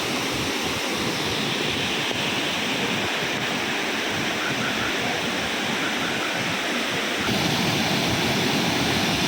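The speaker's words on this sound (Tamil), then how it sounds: "நல்ல அருவியை பாருங்கள் மணிமுத்தாறு ஃபால்ஸுங்க அருவிங்க" Manimuthar waterfall in the Manjolai forest, pouring hard in steady rain, gives a loud, continuous broadband roar of rushing water that holds steady throughout with no voices.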